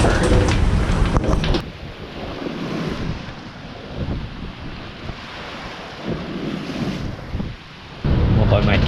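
Strong wind roars and gusts over a sailing boat on open sea during a passage from Fiji to New Zealand, with waves washing against the hull; loud and continuous, with sharper buffeting at start and end.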